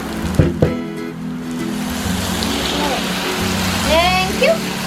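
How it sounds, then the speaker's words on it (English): Kimchi is poured into a hot pan of sizzling onions while cooking tomato kimchi spaghetti, starting with a couple of soft thumps and then a steady, loud hiss of frying, with brief voices near the end. "Now I'll ask my assistant Brian to pour in the kimchi."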